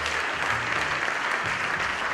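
Steady, sustained applause from an audience at an educators' convening fills the whole stretch, dense and even at close range with no talk over it.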